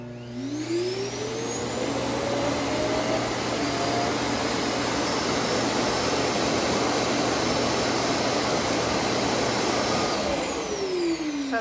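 An iRobot Roomba s9+ base station, after nearly four years of use, loudly sucks debris from the robot into its bag, a steady close roar with a rising whine at the start and a falling tone as it shuts off.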